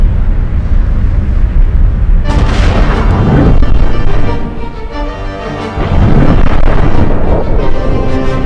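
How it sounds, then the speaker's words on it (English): A loud, heavy explosion effect used to dramatise a solar eruption: deep rumbling booms that swell after about two seconds, dip briefly, then surge again, filling the whole clip with no speech. "The sun erupted in a series of massive explosions called coronal mass ejections, or CMEs."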